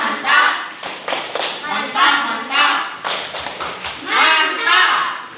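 A classroom group claps a short patterned cheer in a quick rhythmic pattern during a teacher training lesson, with voices chanting along over the claps.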